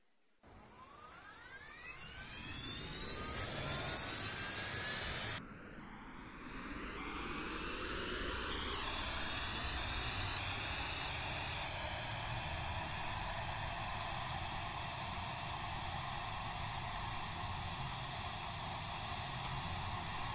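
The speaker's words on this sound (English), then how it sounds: "Listen to the sound of the Trent 900, and let's push back." Rolls-Royce Trent 900 engines on an Emirates A380 in the Roblox game Aeronautica spool up into a loud, steady roar with rising whine tones that settle into a constant hum.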